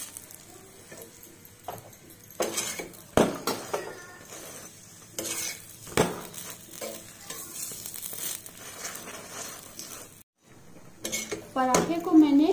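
Gobi paratha cooking in ghee on a pan: a soft sizzle runs beneath repeated clanks and scrapes of a utensil against the pan, with sharp knocks and a brief silent gap before clattering resumes.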